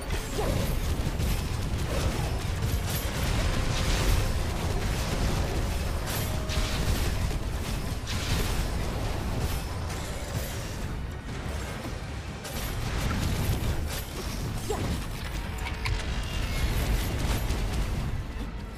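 Chaotic explosions in the co-op shooter game Gunfire Reborn, a continuous barrage of bursts, crashes and whooshing blasts that stays loud and dense throughout, with brief dips before surging again.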